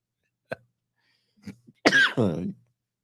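A single short cough, then a throat-clearing grunt and a longer, louder rasping cough-like burst, all close up in a quiet room.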